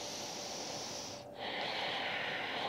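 Slow, deep breaths during a core and alignment exercise session, a long airy inhale followed by a brief pause and another strong breath, close and clear with no talking.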